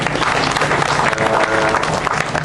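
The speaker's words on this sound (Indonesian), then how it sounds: "tepuk tangan semua teman-teman." Steady applause from a large audience at a community gathering, continuous and fairly close, with crowd murmur underneath.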